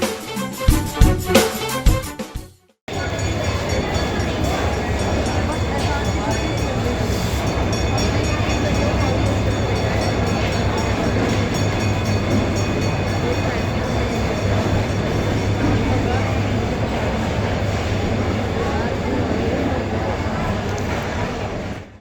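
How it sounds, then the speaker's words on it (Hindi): Diesel-hauled Hazara Express drawing into a platform at Karachi station, a loud steady low rumble of engine and rolling wagons lasting throughout, after a brief burst of nearby activity at the start. "मगर इसी के साथ प्लेटफॉर्म नंबर 3 पर इस वक्त हवेलिया से कराची आने वाली 12 डाउन हज़ारा एक्सप्रेस लग रही है"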